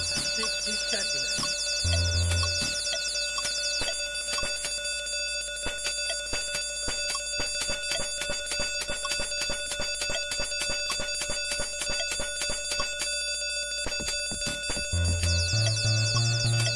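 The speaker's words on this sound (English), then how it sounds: "I really wish this alarm could be turned off easily." A synthetic alarm in the puzzle video game Castle of Dr. Brain rings loud and nonstop, a fast repeating electronic beep with brief tonal blips near the start and end.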